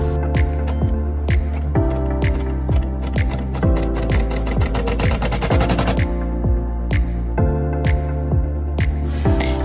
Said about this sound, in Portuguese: Agora coloco ele na máquina, ajusto tudo certinho e vamos começar o bordado.